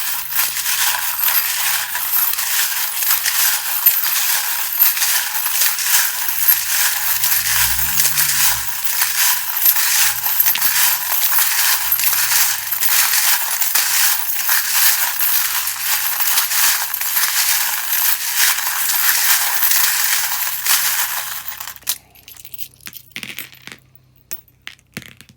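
Many small metal charms rattle and clink continuously in a loud, dense jingle as tarot cards are shuffled, with a few thuds, before settling into scattered clicks.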